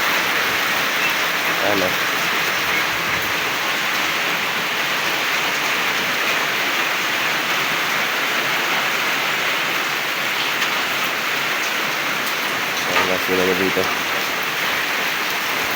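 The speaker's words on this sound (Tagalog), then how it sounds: "Grabe, ulan na to. Maghapon yung ulan." Heavy rain pours steadily in a dense, constant hiss after a typhoon in a flooded rural yard, with brief voices talking near the start and again near the end.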